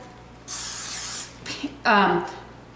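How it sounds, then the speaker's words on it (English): An aerosol can of non-stick cooking spray sprays a pan in a steady hiss for under a second, then a brief rustle and a second, louder spray burst up close. "I'm gonna spray them with some non-stick cooking spray"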